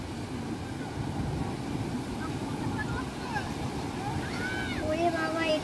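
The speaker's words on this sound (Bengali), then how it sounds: "প্রচুর ঢেউ সমুদ্রে।" Sea waves wash steadily onto Golden Beach at Puri, Odisha, a continuous broad roar of surf with a few faint voices and whistles rising over it toward the end.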